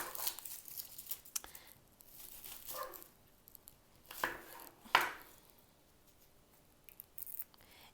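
Onions are sliced into thin rings with a knife on a cutting board, giving a few quiet, irregular chopping strokes with soft crisp crunches and pauses between them, close and alone without talk.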